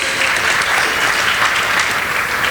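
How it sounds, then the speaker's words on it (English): An audience at a charity gala applauds its dignitaries, with dense, steady clapping sustained loud and close for the whole stretch. "Can we have a round of applause for our dignitaries?"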